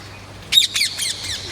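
Birds squawk in a few short, bright bursts just after rain has stopped, fairly close and loud at first, then fading in weaker repeated calls over faint background ambience.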